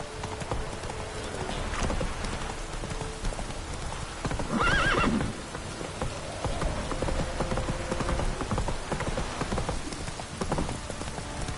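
Roach the horse in The Witcher 3 clip-clops steadily with hooves on the ground, letting out a whinny midway, over a constant bed of rain.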